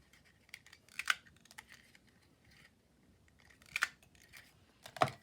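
Scissors snipping out paper circles, a few distinct crisp cuts spaced apart with light paper rustle between them, close and quiet.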